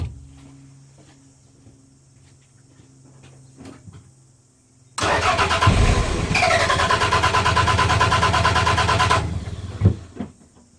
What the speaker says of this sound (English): give it another crank